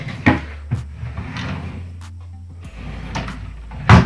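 A pan drawer in a freshly installed kitchen unit is pulled out and pushed back, with sharp close knocks near the start and end and softer sliding rumbles between them.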